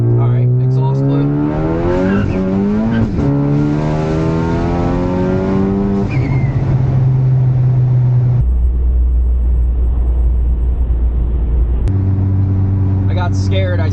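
Loud engine of a new C8 Corvette revving and accelerating, with rising and falling exhaust tones shifting through gears, up close and continuous.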